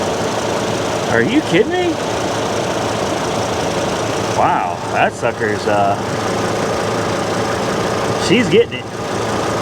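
A Hummer H3 engine idles with heavy, shaking vibration at a dealer auction, a steady low rumble running beneath a woman's short excited remarks.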